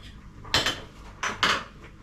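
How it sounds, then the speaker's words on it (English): A spoon stirring food in a metal cooking pot makes two or three short clattering, scraping bursts, close and fairly quiet, with no talking. "Give it a stir."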